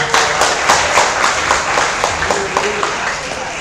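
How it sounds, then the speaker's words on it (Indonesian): Audience applause at the Uswah Islamic Fair 2022, a dense run of clapping from a crowd lasting a few seconds, with a sustained tone and faint voices mixed in beneath the claps. "Tepuk tangan dong."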